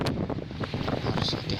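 Strong wind roars steadily at sea aboard a ship in bad weather with high waves, with buffeting gusts against the microphone and water rushing around the deck, loud and continuous throughout.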